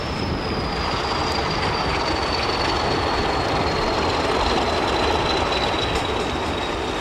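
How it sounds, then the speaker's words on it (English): A southbound interregional train hauled by a Portuguese Railways class 1800 locomotive rolls into Sado junction in Portugal, a loud continuous rumble of wheels on rail with a long, steady high squeal and faint rhythmic clatter throughout. "The southbound train is normally the first to arrive."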